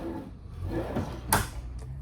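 Drawers slide open and shut in the rear kitchen of a 2024 Keystone Springdale 281RK travel trailer, with a sharp close thump near the middle and a softer knock after, heard up close and alone.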